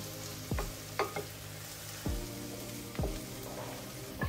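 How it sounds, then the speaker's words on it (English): Onions fry in a pan with a steady, close sizzle for several seconds. A spoon or spatula scrapes through them several times, each stroke making a brief scraping sound, and nobody speaks. "I like to stir as it cooks so that I can get evenly browned onion"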